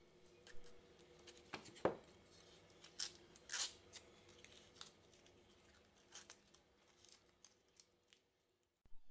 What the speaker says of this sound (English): I'm pulling the tape off the back.